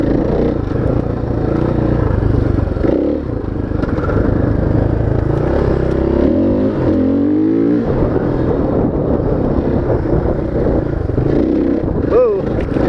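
A motorcycle engine drones and revs on a muddy trail ride while the rider works the clutch, engine pitch rising and falling under wind rumble, with the rider talking over it.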